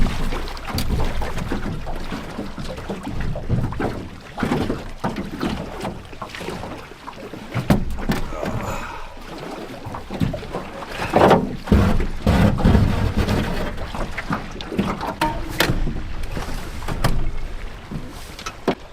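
Small boat moving through choppy water near a cabin, with steady splashing, hull knocks and wind buffeting close to the microphone throughout.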